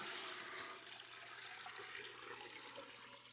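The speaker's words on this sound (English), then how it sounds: "Now I'm going to put in 10, 12 cups of water." Water pours steadily into a soup pot that holds a pork leg, onion, carrot, celery and peppercorns, a continuous rushing flow, faint and unbroken, with no talk.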